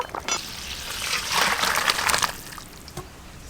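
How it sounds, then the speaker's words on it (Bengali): Water drained from a pot of boiled potatoes pours and trickles steadily, swelling into a fuller splashing rush midway before thinning out to a light dribble. "আলু সব সেদ্ধ হয়ে গেছে, ঢেলে নেব।"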